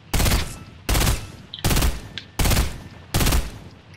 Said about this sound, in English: there's someone shooting at you at the thing